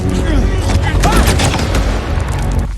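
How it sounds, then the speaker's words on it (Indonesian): A film gunfight between border guards and North Korean soldiers: dense, loud, continuous gunfire with booms blends with raised voices and fills the whole stretch. "Situasinya pun kembali menegangkan sehingga baku tembak pun kembali terjadi."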